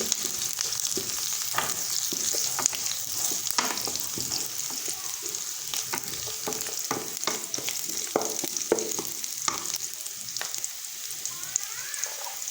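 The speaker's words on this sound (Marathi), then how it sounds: "हे पहा आपला कांदा भाजल्या गेलेला आहे" Onion fries in a pan, a steady close sizzle with occasional stirring scrapes and small crackles running throughout without voices.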